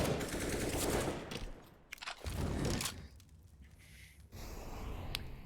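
Scout rifle shots in a Counter-Strike match crack as sharp bursts, mixed with other game gunfire and in-game clatter, fairly quiet overall.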